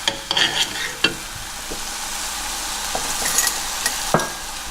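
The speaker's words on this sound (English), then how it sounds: "I'm making a sugar glaze here. And I'm going to continuously stir this so that it doesn't burn." Sugar glaze for Vietnamese caramelized pork belly being stirred in a pan, a steady soft sizzle with scattered scraping and clinking of the utensil against the pan, no voices.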